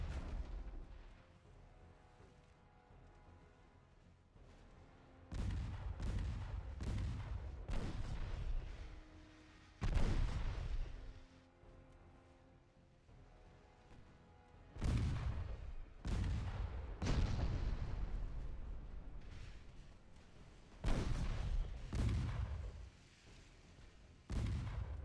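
Naval guns of 5-inch, 6-inch and 9-inch calibre firing in a warship battle in Ultimate Admiral Dreadnoughts: repeated heavy booms in clusters, each followed by a rumbling tail, over a low steady background.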